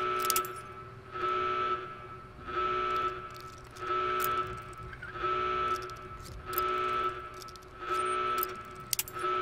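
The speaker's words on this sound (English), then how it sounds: "But we can't level till this freaking alarm goes off." A repeating electronic alarm in the game Fallout New Vegas pulses in regular bursts about once a second, each tone lasting under a second, sounding on its own without talk.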